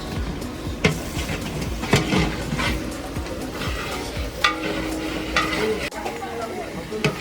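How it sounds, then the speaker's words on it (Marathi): Chopped onion with salt sizzles and fries in a large pan for a big village-feast mutton dish. A steady hiss runs under repeated scraping stirs of a spoon against the pan. "कांदा बट्टीची आवाज दे, कांदा टाकलेला आहे"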